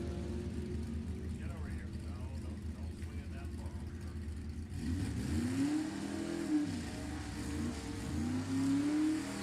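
A 1955 Chevy nostalgia drag race car's engine revs at a drag strip, a steady loud rumble that climbs into rising, swooping revs in the second half, with a commentator talking over the first part.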